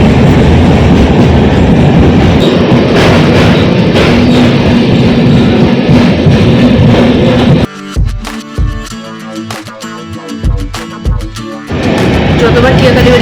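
A passenger train on the Kalyani–Kanchrapara route rumbles loud and close with continuous clattering, then drops into quieter rhythmic wheel clicks for a few seconds before the roar returns.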